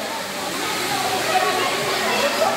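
Kawasan Falls in Trinidad, Bohol pours in a steady, loud broadband rush of falling water, continuous and close throughout with no breaks.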